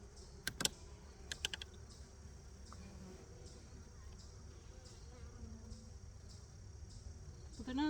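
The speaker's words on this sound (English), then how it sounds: "There are a lot of bees." Honey bees buzz steadily around an opened hive during a beekeeper's inspection, a continuous low drone with a few sharp clicks and taps of handling near the start.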